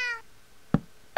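A cat meows inside a video game, a short harmonic cry at the start followed by two sharp, louder knock-like bursts, with no talking.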